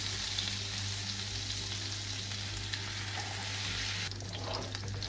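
Veal sweetbreads frying in a pan of melted butter with a little oil give a steady, dense sizzle with a low hum beneath it and a brief louder crackle near the end, with no talking.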